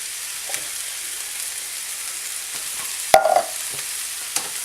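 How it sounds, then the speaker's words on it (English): A spoon stirs green beans and corn in a pan, with a soft sizzle underneath, a few scraping strokes and one sharp clatter around the middle, no voices. "I just start mixing them up real good."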